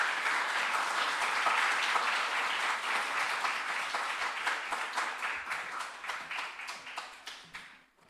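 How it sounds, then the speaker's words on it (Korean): A church congregation applauds during a Holy Week revival service to welcome their pastor, with steady dense clapping from the start that thins into scattered claps before it fades out. "우리 목사님 나오실 힘찬 박수로 환영하도록 하겠습니다"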